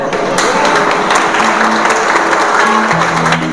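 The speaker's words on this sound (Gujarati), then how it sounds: "સૌથી પહેલાં આપણે તાળીઓથી વધાવી લઈએ એમને." Audience applause welcoming the donor of a group trip, a loud, dense burst of many hands clapping close by that continues steadily without pause.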